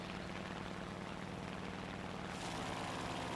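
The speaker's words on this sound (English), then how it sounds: "Still first impressions of the Hagiri's A5M4" In War Thunder, the propeller engine of an A5M4 plane drones steadily and quite faintly, its pitch and roar swelling slightly near the end, with no voices.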